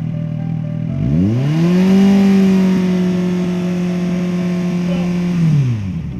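At a vehicle noise-testing station in an industrial zone in Taoyuan, a motorcycle or car engine is revved up sharply, held at a loud steady drone for about four seconds, then eased back down.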